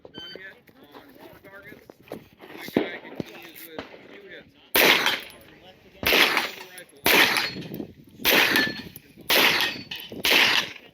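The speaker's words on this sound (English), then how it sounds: "I'll just let you see how I did on that stage, shooting Bunny's gun" A pistol fires during a shooting match stage: loud, close shots ring out at a steady pace of about one per second, each with a sharp crack and short echo, following some earlier talk and lighter clanks.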